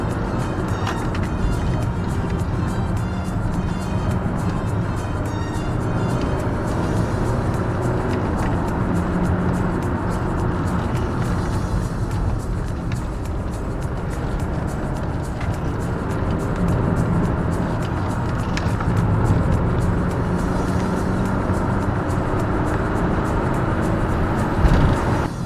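Steady road and engine rumble from inside a BMW running on Michelin CrossClimate tyres, with tyre noise kept low and even, holding at a constant level throughout.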